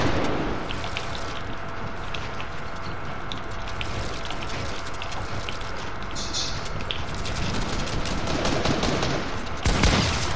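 Dense, continuous gunfire in a shooting video game, rapid bursts and volleys layered over one another at a steady loud level, ending with a sharper burst.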